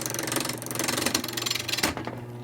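A wood lathe spins a loosely mounted child's toy top blank, a steady loud motor hum with a rapid knocking wobble running throughout, then winding down near the end.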